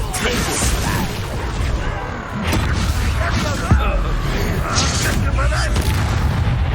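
Explosive spell blasts of Confringo and Bombarda in Hogwarts Legacy combat, with loud booming impacts and crashes over a dense battle din, while voices shout spell names throughout.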